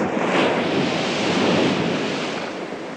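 Ocean surf in the original Planet of the Apes film crashes loudly and continuously, a dense, close wash of breaking waves with windy roar throughout.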